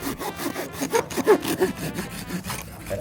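A Conifer Cone folding hand saw cuts through a thick piece of firewood in a steady series of rasping push-pull strokes, close and fairly loud, with no talk.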